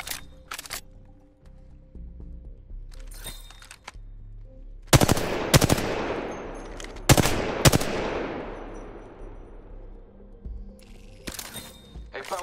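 Several loud, sharp gunshots from a weapon in Apex Legends, fired in spaced single blasts and short pairs that ring out with long decaying echoes, over quiet background game ambience.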